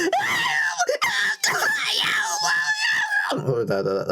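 A voice imitates screaming, wailing babies with loud, drawn-out, strained cries and moans that hold almost continuously, close and harsh, before dropping into a rougher, lower vocal tail.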